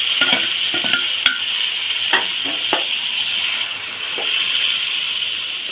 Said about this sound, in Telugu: ఇప్పుడు ఉల్లిపాయ వేపుకుందాం. ఉల్లిపాయ అయితే వేసేస్తున్నానండి.